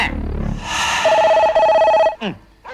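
A telephone rings loud and close in a steady electronic trill lasting about a second, while dogs bark and whine and a voice is heard around it.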